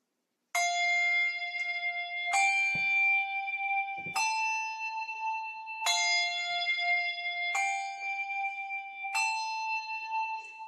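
A set of handbells rung out to the side, six struck tones in a slow, evenly spaced sequence, each ringing bright and sustained and overlapping the next, close and alone with no talk.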